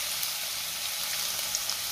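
Crushed garlic frying in hot oil for a Maharashtrian garlic chutney, a steady dense hiss of sizzling that holds evenly throughout with a few faint ticks, close and without any talking.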